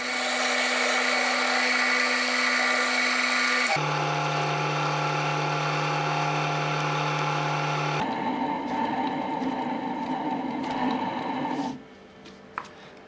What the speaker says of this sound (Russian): зажать в патрон токарного станка и просверлить отверстие и нарезать резьбу